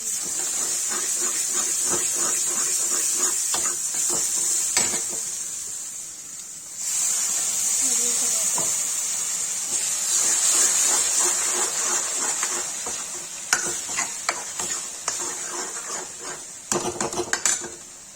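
Red chilli and turmeric stirred into onions frying in a pan: a steady sizzling hiss with quick scraping and clinking strokes of a metal spoon, close and continuous, with a brief lull midway.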